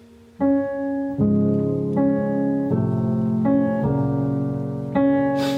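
Piano chords from a song played with both hands, a low bass note under each sustained chord, changing every second or so in a slow, even progression.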